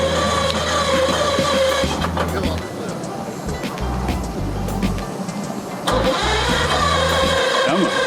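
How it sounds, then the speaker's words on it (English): A Sea Ray inboard-outboard boat engine at a dock cranks and catches, turning over unevenly with surges and dips, then running on near and loud while people talk over it. "Just trying to get his boat started here."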